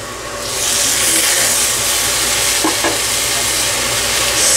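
Onions fried to brown and chopped red tomatoes are stirred in a hot pan for Sri Lankan masi sambol, giving a steady, loud sizzle with scraping stirs throughout and no talk.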